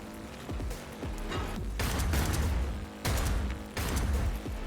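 Bursts of rapid gunfire and heavy booms in the video game Cyberpunk 2077 come in loud waves with short pauses between them, dense and close.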